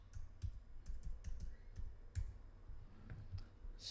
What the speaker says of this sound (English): so that I can actually see what I'm typing